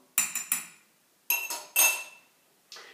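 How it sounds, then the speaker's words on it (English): A spoon stirs juice into pumpkin soup in a metal pot, giving short bursts of clinking and scraping in three clusters with quiet gaps between. "Here to stir a little bit, because different parts of the juice go down."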